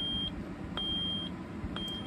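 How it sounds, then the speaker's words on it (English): Ademco alarm panel keypad sounding a fire panic alarm: a repeating high-pitched electronic beep in evenly spaced long pulses with short gaps, loud and steady over a low background rumble. "Let's do a fire alarm. So we're gonna do a fire panic with these two keys."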